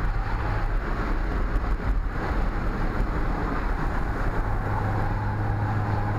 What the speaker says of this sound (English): A little windy.